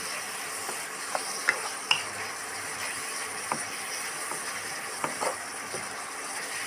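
Mixed vegetables with paneer being stir-fried with tomato sauce, red and green chili sauces, soy sauce and vinegar: a steady low sizzle with scattered scraping clicks of a spatula stirring in the pan, no talk.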